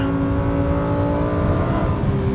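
A Lamborghini Huracan's naturally aspirated engine revs hard on a track, a loud close harmonic howl holding steady with slight pitch shifts, no talk.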